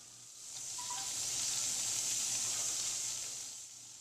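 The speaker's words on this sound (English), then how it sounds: "gently place your donuts into the hot oil and fry them up for about 45 to 60 seconds on each side" Donuts frying in hot oil give a steady, close sizzle with a bright hissing crackle that swells and then eases slightly, heard alone with no voices.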